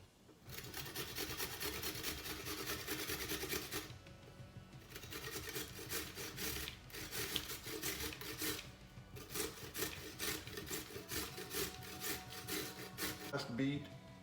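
Peeled beets grated by hand on a grater, a steady rasping scrape in long continuous strokes with brief pauses between passes, close and fairly loud, no talking.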